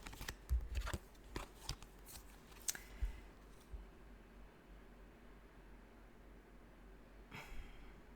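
Tarot cards shuffled by hand, a run of quick papery riffles and slaps over the first few seconds, then a quiet pause before one last brief flutter, close and soft with no talk.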